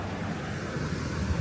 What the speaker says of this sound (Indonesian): Terasa angin sedikit.